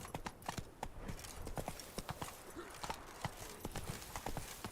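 Horse hooves clip-clop at a steady trot in The Witcher 3, a continuous rhythmic clatter over faint ambient game sound.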